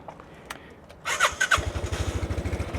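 A Piaggio Liberty scooter, just back from a transmission overhaul, cranks briefly and catches, then settles into a close, loud, rhythmic idle that pulses steadily to the end, with no voices over it.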